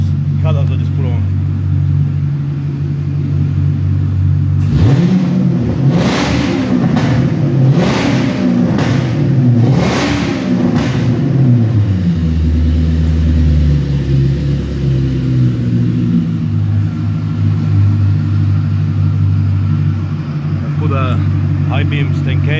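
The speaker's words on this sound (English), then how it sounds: "V5 Magnaflow and the exhaust cutout I just put on" A car engine fitted with a V5 Magnaflow exhaust and a freshly installed exhaust cutout revs hard in several quick, loud bursts, then settles back into a deep, steady idle rumble, heard up close.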